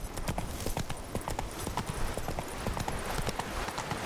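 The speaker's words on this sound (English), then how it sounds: "My horse is having trouble running for some reason." A horse gallops in The Witcher 3 video game, its hooves clip-clopping in a quick, even rhythm close up and loud throughout.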